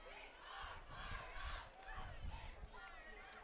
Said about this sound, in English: the crowd's had enough of it already